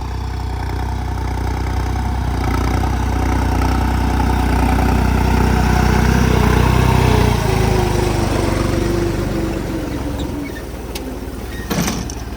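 A New Holland 3630 tractor engine runs steadily while sowing in a field, a loud continuous mid-pitched drone that eases off near the end, where a few brief clanks are heard.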